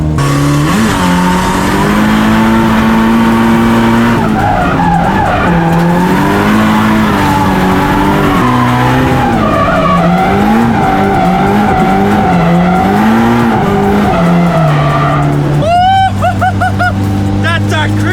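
Car with an SR engine drifting at Winton raceway, loud engine revving with wavering pitch and continuous tire skidding throughout, a sharp squeal and rev burst near the end.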